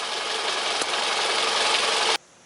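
A car engine idles steadily during an air conditioning recharge, giving a constant, fairly loud hum that cuts off abruptly near the end, leaving quiet.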